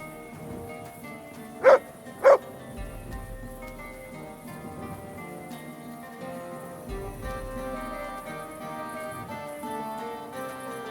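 A dog in the video game Kingdom Come: Deliverance II gives two sharp, loud barks close together near the start, then only a soft ambient bed and faint music follow.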